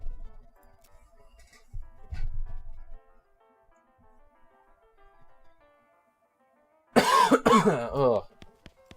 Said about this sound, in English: God, this cough.